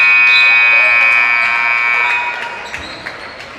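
A loud, sustained electronic end-of-quarter buzzer blares over crowd noise at a high school basketball game, then fades as a ball bounces a few times.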